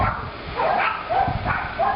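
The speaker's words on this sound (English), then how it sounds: "they're probably going to bark through this whole thing" Dogs bark in the background of a home, a few short muffled barks that come in bursts roughly every half second, moderately loud and with no talking.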